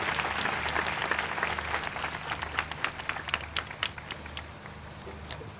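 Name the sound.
congregation applause in church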